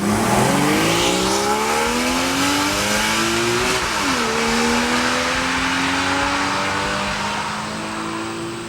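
A 2014 Porsche Cayman with a 2.7-liter flat-six and seven-speed PDK accelerates hard, its engine note climbing steadily, dropping briefly at a gear change, then rising again, loud and close with a gradual fade at the end.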